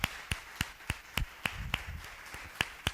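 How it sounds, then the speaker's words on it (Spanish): Congregation at a church service clapping in a steady, even rhythm, sharp hand claps repeating about three times a second at moderate volume with no talking. "Vamos a darle un aplauso al Señor."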